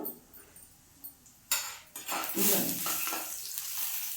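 Dried red chilies frying in oil in a pan, a soft sizzle that swells after a sharp clatter as they are stirred with a metal spoon, close by with no speech.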